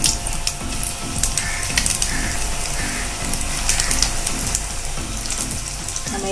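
Cauliflower balls dropped into hot oil over medium heat, giving a steady, dense crackling sizzle that runs throughout, with bursts of bubbling and no talking.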